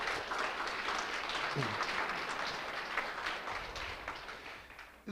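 Applause fills a town hall meeting for the nursing home staff, a steady crowd clapping with some voices murmuring beneath it before it cuts off abruptly.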